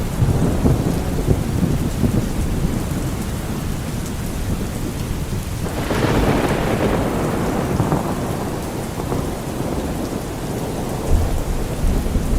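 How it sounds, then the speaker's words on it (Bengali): Torrential rain pours down steadily outside at night, a dense continuous roar with rumbling thunder beneath, swelling midway and holding on without any voices. "এদিকে বাইরে তখন হঠাৎ করে মুষলধারে বৃষ্টি হচ্ছে।"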